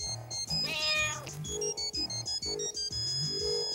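A cartoon cat in a French children's program gives a few bright, drawn-out meows mixed with lively background music and short musical hits.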